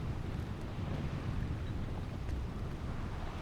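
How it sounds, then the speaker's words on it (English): A sailing boat moves along at about 5 knots in the wind. A constant rush of wind and water surrounds it, with gusts buffeting the microphone. "We are actually sailing."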